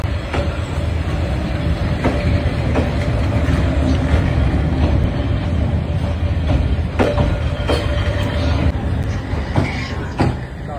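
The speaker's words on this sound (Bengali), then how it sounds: "ট্রেন চলে গেল, আবার আমরা ফিরে এলাম।" A train rumbles steadily past on a railway line in Vietnam, a continuous loud roar with repeated clicking wheel knocks over about ten seconds, heard close by.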